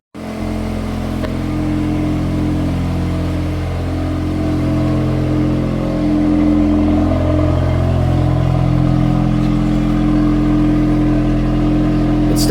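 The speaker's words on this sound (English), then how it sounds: "It's definitely got a raspier, deeper tone to it on the idle." A Mk8 VW Golf R with a new downpipe idles close by, its exhaust a steady, deep, raspy rumble that holds level for the whole stretch, with no voices.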